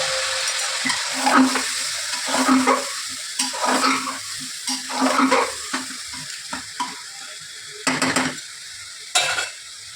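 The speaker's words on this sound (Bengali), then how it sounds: "এটা একটু আমি এখন কষাবো একটুখানি, বেশি সময় না, অল্প সময় একটুখানি, মশলাটা যাতে কাঁচা গন্ধটা না থাকে ততক্ষণ অবধি আমি কষাবো।" Spice masala for Bengali chana sizzles in a pan with a splash of water, while a spoon scrapes and stirs in uneven strokes, close by and without any talk.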